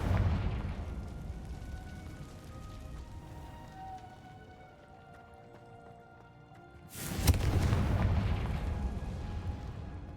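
A loud magical blast goes off in the Hogwarts Legacy video game, a sudden booming burst near the end after a steady low game ambience and faint music tones.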